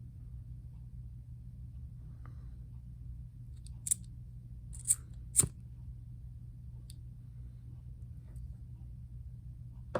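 A few sharp scissor snips cut through bracelet cord, three quick crisp clicks spaced about a second apart, close and clear against a quiet room hum.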